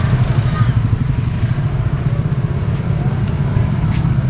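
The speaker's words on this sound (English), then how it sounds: "the cars, the motorbike keep passing by right in front of me" Cars and motorbikes pass close by at a train station, a loud, continuous low engine rumble with rattling clatter that rises and falls throughout.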